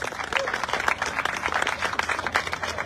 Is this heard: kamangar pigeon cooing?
no